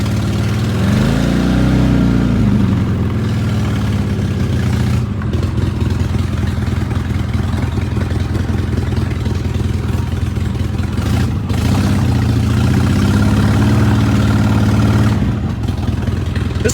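Loud, rough, continuous engine running from a mini VW project vehicle, a coarse rattling drone held close throughout with small shifts in pitch.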